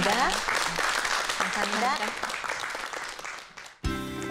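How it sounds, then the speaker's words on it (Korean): Studio audience applause on a Korean TV science talk show about the science of fragrance, a steady patter of clapping that fades out just before a short musical sting, with a host's voice over it. "여러분 박수 부탁드리겠습니다"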